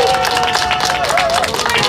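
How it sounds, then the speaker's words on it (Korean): A crowd claps and cheers at an outdoor press conference about a Supreme Court recount, a loud, dense burst of many hands with scattered voices mixed in, filling the whole moment. "여러분 이분들에게 먼저 박수를 한번 보내주시기 바랍니다."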